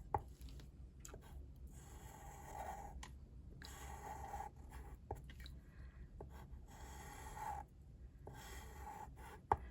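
A pen doodles on paper in short, quiet scratching strokes separated by pauses, close to the microphone, with no talking.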